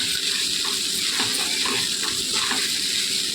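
Egg fried rice sizzling in a pan over high flame, with a steady, continuous hiss and crackle that stays close and even throughout, with no voices.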